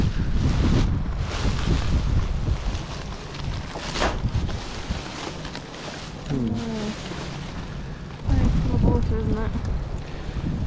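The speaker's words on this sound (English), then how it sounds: "Look, even the bins have been moving around in the wind. Oh, they're so windy." Strong gusting wind buffets the microphone in heavy low rumbles, rising and falling, with brief bits of voice underneath.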